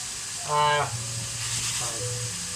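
Beef for a stew sizzling in a pan, a steady hiss of frying, close and moderately loud, with a brief voiced interjection near the start.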